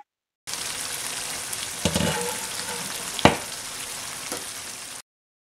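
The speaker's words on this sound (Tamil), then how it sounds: "இது கூடவே 2 டேபிள் ஸ்பூன் அளவு நெய் சேர்த்துட்டு மூடி போட்டு இதை சிம்ல வச்சு ஒரு 5 நிமிஷம் கொதிக்க விட்டா போதும்" Prawn masala cooking in ghee in a covered pan, a steady close sizzle and bubble with a few sharper clinks and scrapes of a utensil, no voices.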